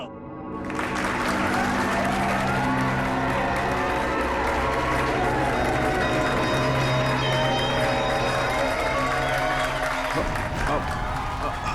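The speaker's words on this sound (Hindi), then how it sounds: "तालियां" An audience at a stage show claps and cheers in a loud, continuous crowd roar that sustains for several seconds before dropping slightly near the end, with voices mixed through it.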